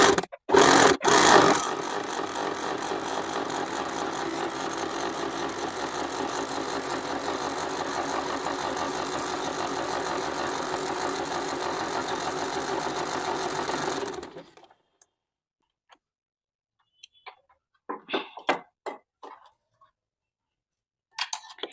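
A sewing machine runs a normal straight stitch around a circular piece of fabric, a loud, steady, fast rattling hum for about fourteen seconds, then stops, leaving quiet handling clicks.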